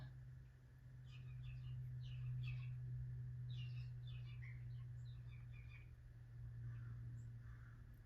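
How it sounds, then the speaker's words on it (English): Blue jays call in short, scattered bursts over a steady low hum, fairly faint and at a distance. "I'm sure you can hear the jays right now."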